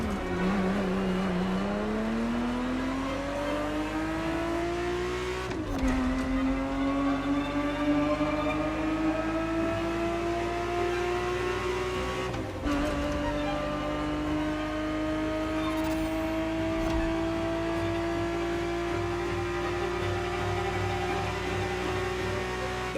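A Ferrari 365 GTB4 engine in the racing game The Crew Motorfest pulls hard and loud, its pitch climbing steadily through the gears with two quick shift breaks, heard alone without voices.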